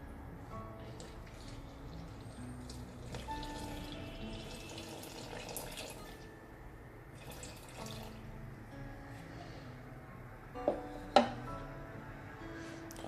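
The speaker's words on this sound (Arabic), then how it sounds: "غندير هنايا 340 غرام ديال الماء" 340 grams of water being poured for barley bread dough, a soft continuous liquid trickle with a couple of small clinks near the end.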